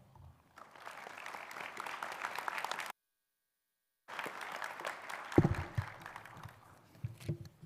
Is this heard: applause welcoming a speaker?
yes